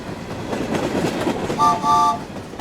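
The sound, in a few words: steam train puffing along track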